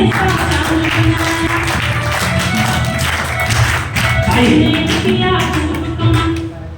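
An audience claps steadily at a business plan presentation, a dense patter of many hands sustained for several seconds with a voice speaking over it.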